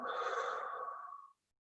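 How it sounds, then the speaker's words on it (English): A single slow breath pushed out through the mouth during a guided breathing exercise, a soft breathy rush lasting just over a second, close and fairly quiet, then silence. "Breathe out through the mouth."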